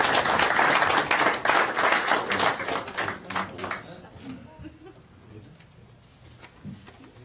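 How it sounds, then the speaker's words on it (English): Audience applause at a council meeting swells loud and dense for about four seconds, then thins into scattered claps and fades to quiet room noise with a few low voices. "Let's give them a round of applause."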